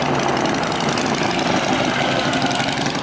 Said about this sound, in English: It's only 2 trucks rolling through there.